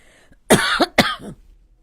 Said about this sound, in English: Even if I cough